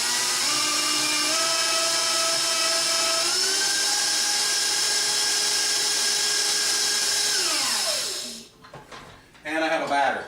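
An electric mixer fitted with a whisk beats brownie batter with vanilla and salt, its motor whining loudly and steadily. The pitch steps up twice as the speed changes, then it winds down and stops, followed by clattering handling sounds.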